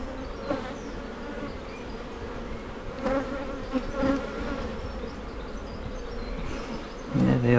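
Honey bees buzzing around an open split-box hive during an inspection, a dense continuous hum close by with small swells as insects pass near, and a brief low thump near the end.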